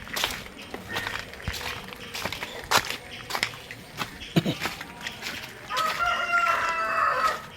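Native country chickens cluck in scattered bursts at a backyard coop while a rooster crows, with footstep-like rustles and a louder stretch of crowing and clucking near the end.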